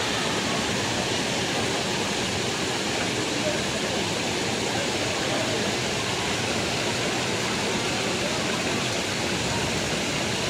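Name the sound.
waterfall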